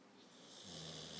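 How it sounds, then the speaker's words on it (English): An American Pit Bull snores softly while asleep, one low, rasping breath that swells partway through, close and quiet with no talk over it. "You snore too loud."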